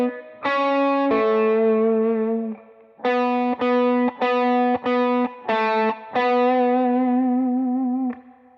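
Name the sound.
electric guitar playing Halloween lick slowly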